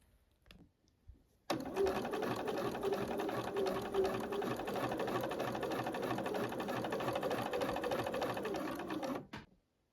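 A sewing machine stitching bias binding onto the edge of a top, running in one continuous fast whirring burst of about eight seconds after a brief quiet start, close and steady, then stopping abruptly.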